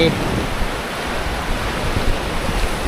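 Sea waves wash in at Laem Mae Phim beach in Rayong, a continuous broadband surf roar with gentle swells in loudness and no clear speech.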